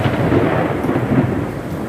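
Loud thunder rolls through a desert rainstorm, a continuous deep rumble mixed with the steady hiss of heavy rain, close and filling the whole moment with no voices.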